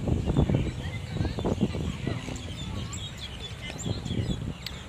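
Birds chirp faintly in an outdoor park at Dahu Park in Taiwan, with brief, scattered calls over a soft background of wind and distant voices.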